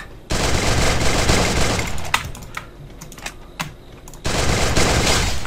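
Gunfire in the Free Fire mobile battle game, with dense rapid bursts of automatic shots at the start and end and scattered single sharp cracks between, loud and close.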